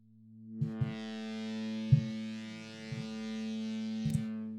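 A Serum synth lead drenched in reverb plays sustained, bright, buzzy tones with a few sharp note attacks, each leaving a long shimmering tail that fills the space between notes.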